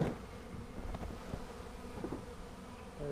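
A swarm of bees buzzes steadily and densely around a truck outdoors, the hum close and continuous with no pauses.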